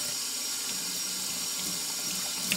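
A sponge used for ceramics glazing is rinsed under a running tap, a steady close hiss of flowing water splashing into a sink without a break.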